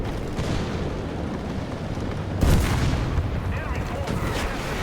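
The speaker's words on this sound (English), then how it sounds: "That's the problem with these missiles, they always hit the ground." An anti-tank missile slams into the ground in War Thunder, a single deep boom midway through a steady rumble of battlefield noise, with faint speech underneath.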